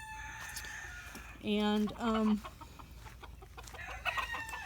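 White-crested Polish rooster and hens in a pen: two loud, close harmonic crows in quick succession stand out over soft clucking and bird chatter, with a brief spoken word.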